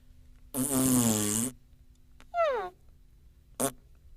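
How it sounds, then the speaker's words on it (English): A woman's fart sounds as a loud, buzzy, drawn-out tone of about a second, followed by a shorter rising squeak and a brief final burst. "This time, it's a female fart."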